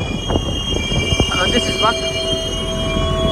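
Small toy or miniature train in a garden setting, heard as a brief rolling clatter with faint squealing tones, under nearby children's and adults' voices.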